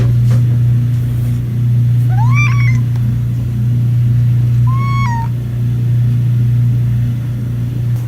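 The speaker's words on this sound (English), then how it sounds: "Our cat Felicia is crying in the bathroom right now" A cat shut in a bathroom gives two short, plaintive meows a few seconds apart over a loud, steady low hum.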